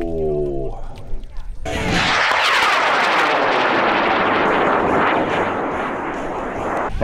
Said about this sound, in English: It's flying as Amram 120 by PML. It's got a Loki motor in it.